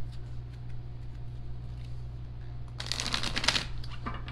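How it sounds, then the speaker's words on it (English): Tarot cards are shuffled close by, a brief riffling flutter of card edges rising out of a quiet room with a low steady hum underneath. "Shuffle twice, cut once"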